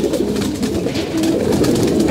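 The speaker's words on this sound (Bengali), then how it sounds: "এই যে পায়রা দেখেন" A domestic pigeon coos nearby in low, soft, repeated calls that run steadily throughout with no other sounds over them.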